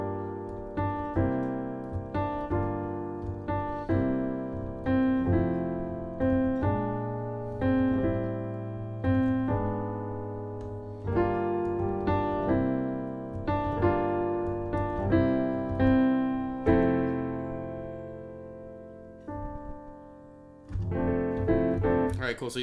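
Jazz piano plays the A section of a standard, a steady flow of chords and melody notes with a swinging rhythm, close and clear, closing with a brighter flourish.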